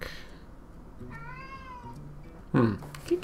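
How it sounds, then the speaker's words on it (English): A house cat gives a clear rising-and-falling meow in a quiet room, with faint clicks and a short bump of handling noise after it. "Okay, my cat is going wild."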